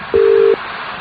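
A single short telephone tone, the busy signal after a phone call is cut off, sounds clearly for under half a second over faint background hiss.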